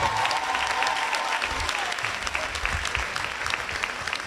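Steady round of audience applause after a talk on personal security, dense clapping from a crowd continuing at an even, fairly loud level without a break.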